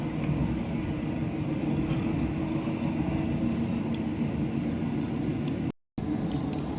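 A passenger train rolls toward Abeokuta, heard from inside the car as a steady loud rumble and rattle of wheels on track, continuous throughout apart from a momentary cut near the end.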